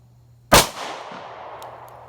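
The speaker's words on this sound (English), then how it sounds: "Definitely 365 is softer shooting." A single sharp, loud shot from a Sig Sauer P365XL pistol at a shooting range, close by, followed by a decaying echoing tail with a faint click afterward and a low steady hum underneath.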